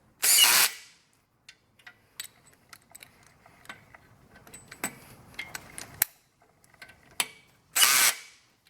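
A power drill tightens bolts on a Thule T2 Classic platform hitch bike rack. Two short whirring bursts sit at the start and end, with scattered clicks and tool rattles in between, close up and with no talk.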